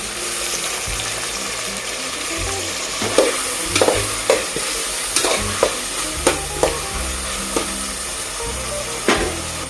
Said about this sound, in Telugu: బ్రౌన్ కలర్లోకి అయితే వచ్చేసాయి కదా ఆనియన్స్ ఇప్పుడు టమోటాలు వేసుకుందాం